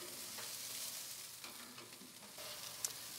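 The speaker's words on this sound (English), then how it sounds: "The secretos grill quickly, 3 minutes per side will do it" Pork secreto steaks and green onions cooking on a grill, a soft continuous sizzle with occasional small crackles and one sharp tick near the end, no speech.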